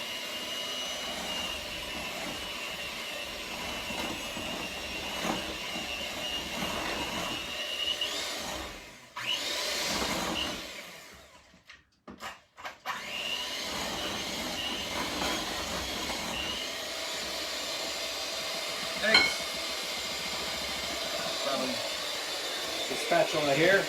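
An electric mixer blends vanilla into a sugar, egg and oil mixture for a fig cake, giving a steady loud whirring drone that briefly cuts out and restarts midway, then runs on continuously with no talk.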